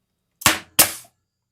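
Two sharp, loud snaps about 0.4 seconds apart from a staple gun driving staples into small wood pieces, each a hard percussive crack with a short decaying tail, no voices.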